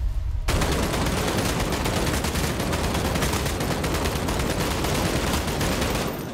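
Rapid automatic gunfire in the battle royale game Vampire: The Masquerade - Bloodhunt rattles continuously for several seconds, loud and dense, starting abruptly after a brief pause.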